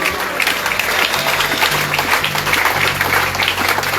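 A church congregation at a Sunday worship service applauds steadily and loudly, with dense continuous clapping filling the room alongside a low sustained musical drone throughout.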